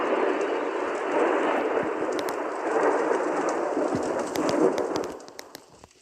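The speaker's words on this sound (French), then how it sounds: "Il y a eu un petit orage." Rain hisses steadily through a thunderstorm in a blocky sandbox video game, with low rolling thunder swelling beneath it and a few sharp crackles before the storm fades toward the end.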